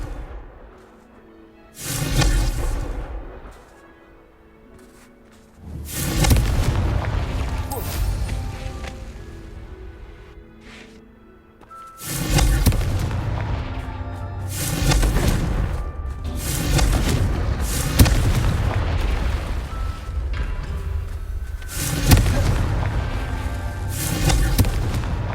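Repeated Confringo blasting-spell explosions in Hogwarts Legacy, heavy booming blasts landing in bursts with crackling tails, one after another across the stretch, loud and close, with a voice heard over the game sound.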